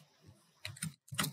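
Keystrokes on a computer keyboard come in two short bursts of clicking taps with a brief gap between them, close and fairly clear.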